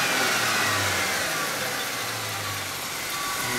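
Engine of a 1998 Ford Mustang runs close by, a steady loud idle with a couple of brief revs swelling and falling back, and no one speaking.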